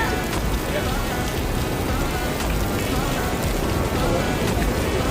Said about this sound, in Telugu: పైన గుహ నుంచి వర్షం పడుతుంది చూడండి